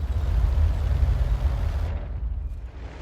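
An M44 self-propelled artillery gun fires in the World of Tanks game, a heavy low rumbling blast that holds strong for about two seconds before its upper crackle drops away, leaving a dull fading boom.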